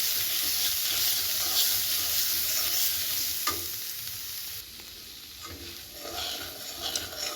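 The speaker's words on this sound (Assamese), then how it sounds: "20-30 ছেকেণ্ডৰ বাবে আকৌ অলপমান ভাজি ল'ব" Onions with turmeric are stir-fried in a pan, giving a steady close sizzle with stirring scrapes. The sizzle eases partway through and then picks up again.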